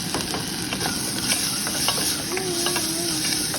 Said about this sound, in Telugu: ఒక నిమిషం వేగనిద్దాం